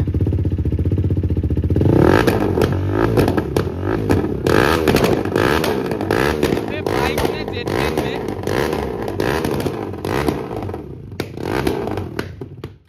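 Motorcycle engine on an upper Assam ride, a loud sustained drone with rising revs and clattering mechanical noise, voices talking over it throughout.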